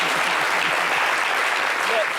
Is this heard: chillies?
no